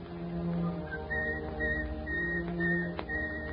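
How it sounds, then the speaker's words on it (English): A man whistles a simple tune in a 1944 radio broadcast, clear melodic notes in short phrases over a steady background hum and low sustained tones. "It's the sound of a guy whistling."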